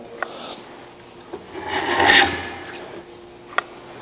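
Thin wood veneer strip for a guitar rosette is drawn through a veneer thinner, giving a close, raspy rubbing scrape that swells to a peak midway, with a few sharp ticks before and after in a quiet room.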